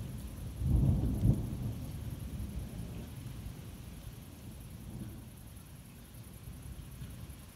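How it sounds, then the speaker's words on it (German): Thunder rolls through a storm in the video game Fortnite, a soft distant rumble that swells briefly near the start and then fades into a low, drawn-out murmur, faint overall with no talk. "Bei so hellen Blitzen kommt ja meist noch ein lauter Donner."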